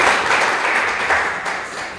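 An audience at a Lubumbashi game show applauds a qualifying contestant, with loud, dense clapping held steady for a couple of seconds before it starts to ease.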